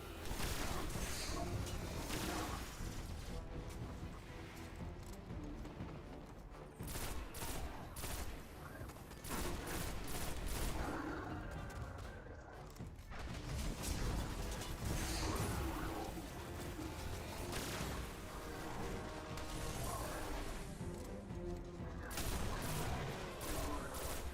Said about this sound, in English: I just love a fusion rifle.